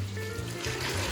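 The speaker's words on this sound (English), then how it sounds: "Let's put our water in." Water poured into an Instant Pot over garlic and salt, a short trickling splash with a low hollow resonance, close and brief.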